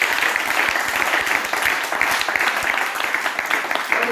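A church congregation applauding in worship, a dense, steady roar of many hands clapping that fills the room without pause.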